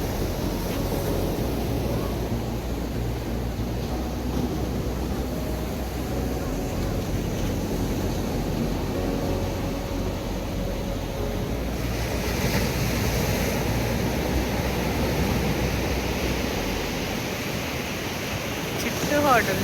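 Ocean surf rolls steadily onto Myrtle Beach, a continuous loud wash of breaking waves with gusty wind on the microphone and faint voices in the background.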